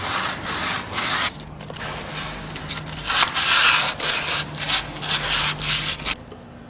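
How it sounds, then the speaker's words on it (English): Sandpaper scrubbing rust off the brake disc hub of a Mercedes W124, a rough, steady rasping of back-and-forth strokes close by, continuing for several seconds with one brief pause, no talking. "get some sandpaper, rub off all this rust right here."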